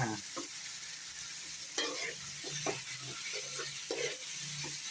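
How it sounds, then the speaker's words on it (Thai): Quick scraping stirs in a hot wok over a steady sizzle, with irregular clanks of the spatula against the pan. "คลุกเคล้าให้เข้ากันครับ"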